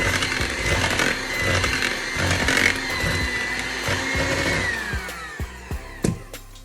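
Electric mixer whirring steadily through cookie dough for sugar cookies after an egg and cheese are added, a loud continuous motorized drone with bumps and knocks near the end.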